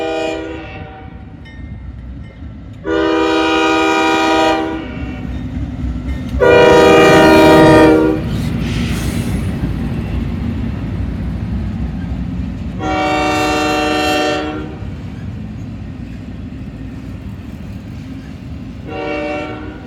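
A northbound freight train hauling auto racks passes at Bellevue, its loud horn sounding in several long blasts over the rumbling roll of the cars, close and powerful throughout.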